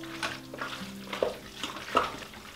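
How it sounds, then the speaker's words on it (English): Ground beef sloppy joe mixture seasoned with sea salt is stirred in an Instant Pot, giving a soft, wet scraping and sizzle with a few sharper clicks of the spoon against the pot, close and steady. "Stir it all together real good."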